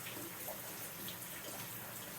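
Shower water runs steadily over houseplants indoors, a dense, even hiss of spray and splashing with no pauses.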